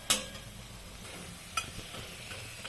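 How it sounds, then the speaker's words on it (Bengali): Gima greens fritters sizzle steadily in oil in a pan, with a few sharp clinks of a utensil against metal. "এটা ধীরে ধীরে ধীরে ধীরে বড়াটা ভাজছি"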